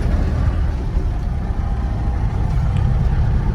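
A Roxor off-road vehicle crawls along slowly in first gear in cold weather, its engine giving a steady, close, low rumble throughout with no talk.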